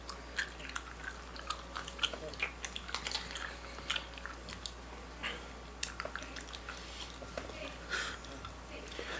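Close, faint wet chewing of gum with soft irregular smacks and squishes repeating throughout, alongside quiet background noise.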